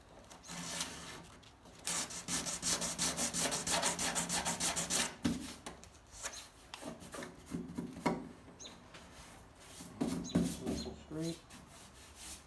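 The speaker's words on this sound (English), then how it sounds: "Now it's just sanded nice without breaking anything." A Fox Body race car part is hand-sanded in quick back-and-forth rasping strokes, a dense burst of scrubbing followed by slower, intermittent rubs, close and fairly quiet.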